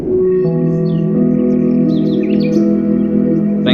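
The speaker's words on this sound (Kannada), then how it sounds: "ಪಕ್ಷಿಗಳ ಇಂಚರವು ಕೂಡ ಕೇಳಿಸ್ತಾ ಇದೆ." Birds chirp and tweet over calm, sustained tones of meditation music, the bright little calls scattered above the steady, loud drone.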